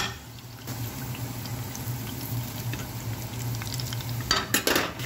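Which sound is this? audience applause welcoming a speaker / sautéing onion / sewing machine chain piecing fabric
sautéing onion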